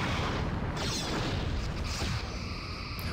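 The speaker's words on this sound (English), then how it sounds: "Photon torpedoes." Photon torpedoes launching from a Starfleet-Klingon hybrid starship in a Star Trek ship battle game, a soft, muffled booming whoosh with rumbling low end that holds steady for a few seconds.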